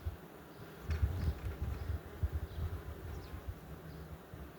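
Honey bees buzz at hive frames, a close, uneven drone with bursts of louder wingbeats as individual bees pass near; no talking.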